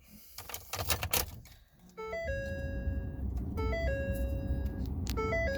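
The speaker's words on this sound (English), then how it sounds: "So we'll listen to her start up." A one-owner 2014 Ford F-350 with a 6.7L turbo diesel and high mileage starts up: clicking and cranking, then a steady engine idle under repeating electronic warning chimes.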